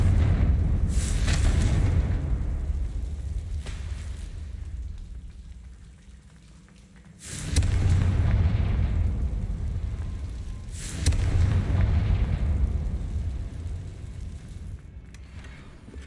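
Fiery Confringo spell blasts in Hogwarts Legacy, played on Xbox Series X: several heavy booming impacts a few seconds apart, each followed by a long rushing, crackling decay, loud and close with no voices.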